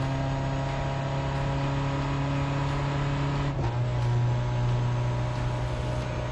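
A Gr.2 race car at Suzuka in GT Sport holds a steady, loud engine drone with strong tonal harmonics, then drops pitch abruptly partway through as if shifting gear, and keeps pulling hard.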